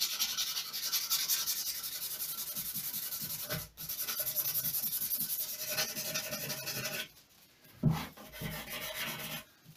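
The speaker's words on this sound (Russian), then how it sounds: "И это делается совсем мелкой наждачкой." Fine sandpaper rubbing along the edges of a carved wood panel, a steady close scratchy rasp with a short pause near four seconds and a quieter break near the end, with no voices.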